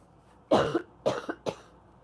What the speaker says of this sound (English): I finally coughed.